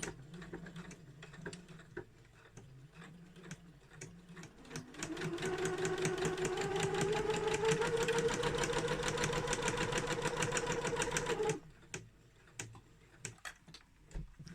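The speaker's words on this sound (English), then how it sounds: "pivot in your corner, and stitch right to the top and finish with another back tack" A sewing machine stitches a drawstring bag in a fast, steady mechanical whir that runs for several seconds before stopping, with quieter ticking and handling around it.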